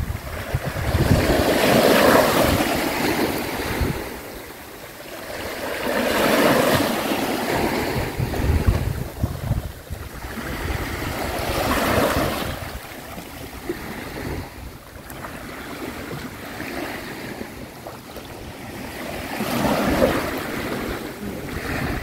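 Sea waves roll in and wash ashore at Crikvenica beach in loud, broad surges every few seconds, with heavy wind buffeting the microphone throughout and no voices.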